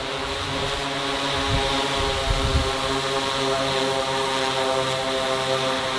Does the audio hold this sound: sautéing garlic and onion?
no